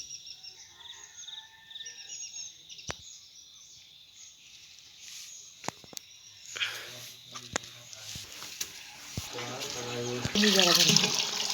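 Cold water from a hose sprays onto a house under construction in Konkan on a chilly morning. Quiet at first, then a steady hissing, splashing rush with scattered clatters that grows louder toward the end.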